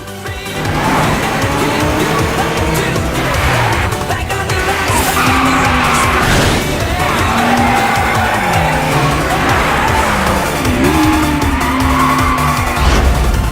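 Race car drifting hard through a turn, loud continuous tire squeal over a roaring engine, with wavering pitch sweeps as the car slides, sustained and close for the whole stretch.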